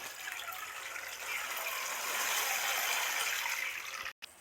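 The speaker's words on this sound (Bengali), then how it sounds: "এই একশো গ্রাম খেসারির ডাল জলে দশ মিনিটের জন্য ভিজিয়ে রাখছি" Water pouring steadily over 100 grams of khesari lentils set to soak, a continuous close gush that swells midway and then cuts off abruptly near the end.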